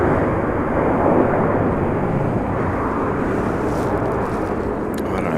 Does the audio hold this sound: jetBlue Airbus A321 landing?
yes